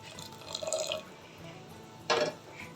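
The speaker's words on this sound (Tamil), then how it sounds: "வெள்ளை கரைசலை பாசிப்பருப்பில் சேர்த்துக்கலாம்." Jaggery solution poured into cooked moong dal for payasam, soft liquid splashing and dripping in two short bursts, the second sharper and louder, fairly close with no talking.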